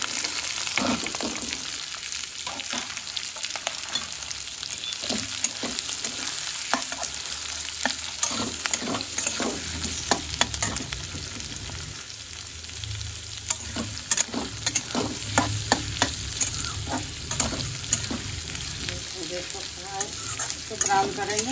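Onions frying until brown in a pan for a mushroom paneer curry, a steady close sizzle broken by repeated scraping stirs of a spoon, with a few faint murmurs of talk.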